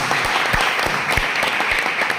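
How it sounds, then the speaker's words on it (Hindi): Steady applause from an audience cheering champion leaders at a motivational Dream Life event, dense continuous clapping with sharp individual claps standing out, loud and close. "के लिए एक बार जोरदार हाथ ताली होना चाहिए।"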